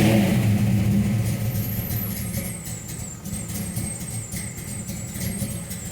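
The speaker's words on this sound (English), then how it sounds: "now we get into this like real lopey idle, you know, it's got a cam in it and just kind of sits there and chugs away" A cold-blooded 1968 Mercury Cougar V8 with a cam chugs through a lumpy, uneven idle nearby, starting slightly louder and settling into a steady throb, a thin high whine above it and no talking.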